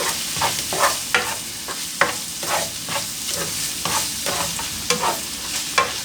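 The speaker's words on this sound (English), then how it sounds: "And then we're just doing like a stir fry" Beef for stroganoff, seasoned with salt, is stir-fried in a pan. A steady close sizzle runs throughout, broken by repeated rhythmic scrapes and clatters as the meat is tossed.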